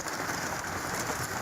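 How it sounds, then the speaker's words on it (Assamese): Hail pours down during a severe hailstorm in Assam, a dense, steady, hissing patter of stones striking surfaces, loud and unbroken throughout. "দৃশ্যখন দেখুৱাই আছো ছয়গাঁৱৰ দৃশ্যাংশ ভয়ংকৰভাৱে শিল বৰষুণ হৈছে"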